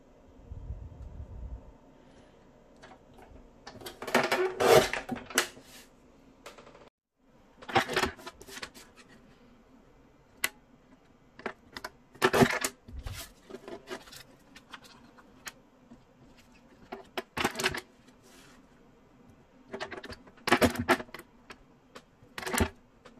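A paper cutter slices through watercolor paper in a series of sharp, crisp chops and scrapes spaced several seconds apart, close and fairly loud with quiet pauses between cuts.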